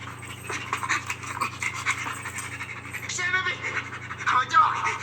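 Rapid, rhythmic panting from a dog, breathy and close, carries on over several seconds while people talk alongside it.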